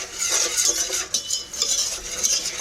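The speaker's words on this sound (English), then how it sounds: "So I am just going to stir these together." Flour is stirred into a roux in a pan, making continuous close scraping and swishing with a faint sizzle underneath, steady and uninterrupted with no voices.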